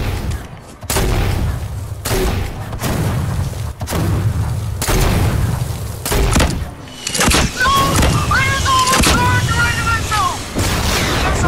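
Rocket volley explosions in a video game: a string of heavy booms and thuds, one after another, with excited voices talking and shouting over them.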